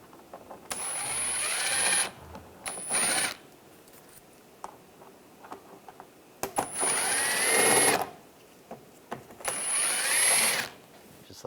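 Socket wrench removing 8mm screws from a 2013-2016 Dodge Dart while replacing the windshield washer reservoir, heard as several separate bursts of metallic ratcheting and clicking with quiet gaps between them.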